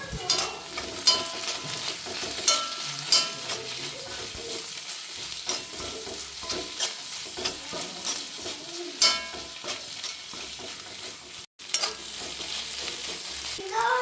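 Onions frying in a pan with curry leaves for a beef liver roast, a steady close sizzle broken by frequent stirring scrapes and clinks of a utensil, no talk.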